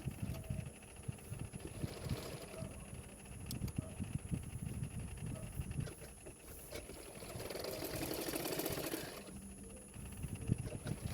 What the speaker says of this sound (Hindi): हुक पट्टी के किनारे किनारे पे मैं सिलाई कर रही हूँ